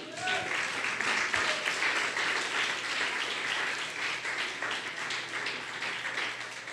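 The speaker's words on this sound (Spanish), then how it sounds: "¿Alguien puede darle un aplauso al Rey?" A congregation applauds during a Spanish-language church sermon, with sustained dense clapping from a crowd that fills the room at a steady level.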